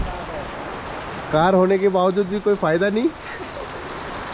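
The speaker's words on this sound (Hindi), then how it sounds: "मस्त बारिश हो रही है" Heavy rain falls at a campsite, a steady hiss running throughout, while someone talks loudly over it in the middle of the scene.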